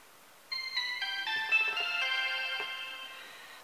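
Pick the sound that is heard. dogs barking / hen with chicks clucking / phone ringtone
phone ringtone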